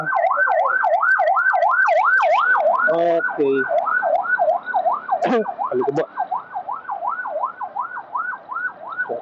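A wailing siren sweeps up and down in a steady, rapid cycle, loud and close at first, then slowly fading as it moves away; a person briefly speaks and coughs.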